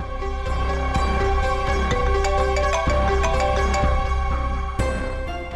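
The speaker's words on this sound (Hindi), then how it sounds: "सुनो, इंपॉर्टेंट फोन कॉल है, मैं जरा आता हूं।" A mobile phone rings for an incoming call, a looping electronic melody of bright repeating tones that plays steadily for several seconds, loud and near, with no talking over it.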